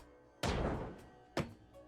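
Two heavy hammer impacts from the video game Ship Graveyard Simulator 2 land about a second apart, each a loud, booming thud with a short decaying tail, the second slightly lighter than the first.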